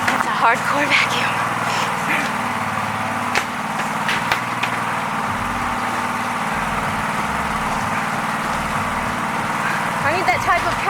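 A powerful leaf vacuum runs during a property leaf cleanup, giving a steady, droning engine roar with scattered knocks and rattles, while people talk over it.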